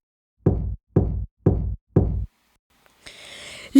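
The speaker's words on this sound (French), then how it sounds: "Puis soudain, le loup frappa à la porte." Four firm, evenly spaced knocks land on a door, close and distinct. A brief rustling noise follows after a short pause.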